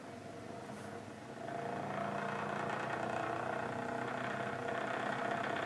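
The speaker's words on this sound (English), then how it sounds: "notice how much faster and quieter the motor runs" A Hall effect switched brushless electric motor runs with a steady mid-pitched whir, stepping up slightly louder partway through and holding an even drone without crackle or arcing.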